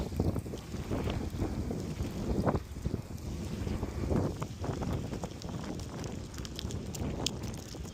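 Strong wind gusting among trees, buffeting the microphone in a continuous loud rumbling roar with rustling surges, no talking.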